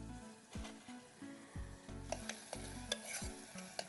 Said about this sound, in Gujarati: ડુંગળી થોડી બ્રાઉન થાય ત્યાં સુધી આપણે એને સાંકળીશું